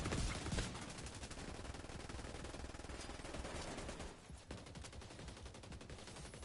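Rapid automatic gunfire rattles almost without pause during a firefight in The Division 2, a dense stream of shots that dips briefly before resuming.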